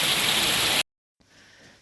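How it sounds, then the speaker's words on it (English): Rain falls outdoors in St Elizabeth as a loud, steady hiss that cuts off abruptly, then returns as a much fainter wash. "So the rain has been falling from morning, from last night, from yesterday, pretty much."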